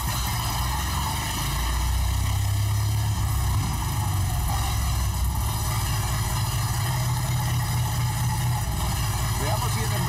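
Engine of a 1910 antique car catching and running, a steady low rumbling idle throughout, with people talking over it.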